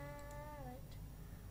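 A cat meows once in the video game LOTRO, a soft, slightly falling tonal call over a steady background hum, fairly faint and brief, with no talking.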